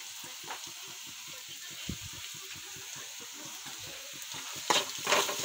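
Baingan bharta sautéing in a pan with turmeric, chilli and salt, a spoon scraping through it in a steady, quick back-and-forth rhythm over a soft sizzle, with a couple of louder scrapes near the end.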